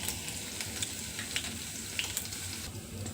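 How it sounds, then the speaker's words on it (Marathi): A tempering of sesame seeds, chilli and asafoetida sizzles quietly in hot oil, a soft, steady crackle with faint stirring ticks, and no voices. "आता ही फोडणी छान अशी मिक्स करून घेऊया"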